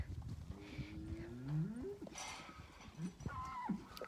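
Cattle on a farm, cows and first-calf heifers, low drawn-out moos sounding one after another at moderate distance, with faint background shuffling and rustle between calls.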